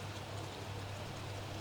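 Steady, soft rain for a bedtime sleep story, an even hiss of drops with no breaks and no voices.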